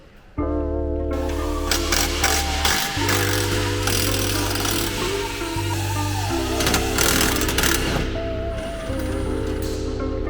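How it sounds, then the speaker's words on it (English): An impact gun runs in bursts on a 15 mm bolt during a BC Racing coilover install on a Mustang, loud whirring and rattling hammering with tonal pitch shifts, steady and close, with no talk. "from there I can probably hit that 15 with my gun"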